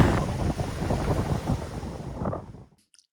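Cold, choppy wind by Loch Ness buffets the microphone in a loud, continuous roar, then cuts off abruptly near the end.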